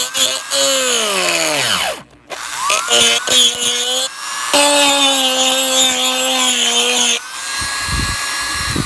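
Old Bakelite Dremel rotary tool running, a loud close motor whine that spins down, restarts and changes pitch as it speeds up and slows, with brief grinding contact near the end.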